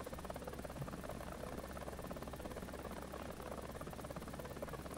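Ka-50 attack helicopter in a video game, its rotor and turbine engines making a steady, dense droning buzz with a fast rhythmic rotor chop, constant and fairly close throughout with no talk over it.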